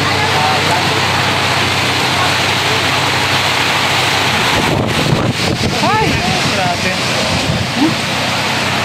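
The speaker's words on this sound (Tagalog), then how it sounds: "Lumakas na yung ulan, guys." Heavy rain pours steadily while gusty wind buffets the microphone during a typhoon; a person briefly exclaims partway through.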